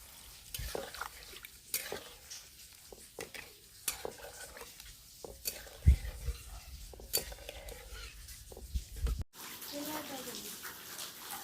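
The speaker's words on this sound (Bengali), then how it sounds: "আমি সেইভাবেই জল দেব একটু বেশি করে" Water is poured into a potato curry simmering in a pan, giving bursts of splashing and hissing with spoon clatter against the pot, uneven and close, and a short gap near the end before a softer bubbling resumes.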